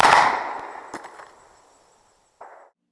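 An EMF snub nose 1860 Army revolver fires one loud, sharp shot that rings and fades over about two seconds, followed by a brief softer thud.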